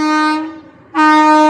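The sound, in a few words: train passing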